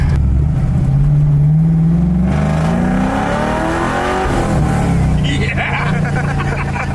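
A 1975 Camaro with a 1970 front end, cammed LS 5.3 V8 and Tremec TKX five-speed, revs loudly up close, its engine note climbing and falling, with voices talking nearby.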